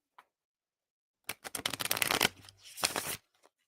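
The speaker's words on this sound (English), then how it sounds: "One more shuffle." A brief tap, then a burst of riffling cards followed by a second shorter riffle, fairly close and crisp.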